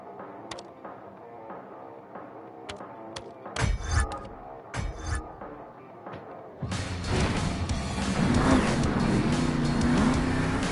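Frank Krimmel's Zombie monster truck at a Monster Jam show in Salt Lake City: its engine blips in short bursts, then roars loud and sustained during the two-wheel skills competition, with arena noise behind.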